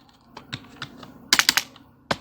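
Typing on a computer keyboard while editing web page code: scattered single key clicks, then a quick close burst of several keystrokes and one last tap, with no talk.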